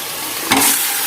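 Marinated chicken hits a hot pan, and a loud, close sizzle jumps up over the steady frying hiss and then holds as a bright crackle, with no talk.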